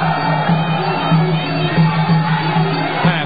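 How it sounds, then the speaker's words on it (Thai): A large crowd cheers and shouts steadily at a Thai boxing match in a packed arena, a continuous roar with swelling whoops. "แหมคู่นี้นี่เสียงกองเชียร์ดังทั้งตึกกล้องเลยนะครับ"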